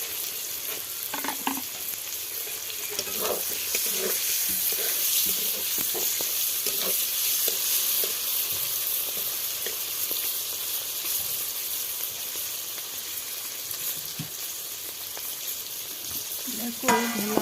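Dried bhola fish shutki frying with turmeric in an oily pan, a steady close sizzle with scattered crackles and stirring scrapes throughout, no voices.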